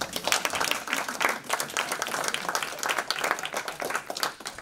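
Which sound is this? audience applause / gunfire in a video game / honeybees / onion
audience applause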